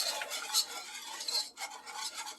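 Milk being stirred and whisked into a thickening, clumpy mac and cheese sauce in a pot, a steady scraping and swishing of the utensil throughout, fairly close and moderately loud with no talking.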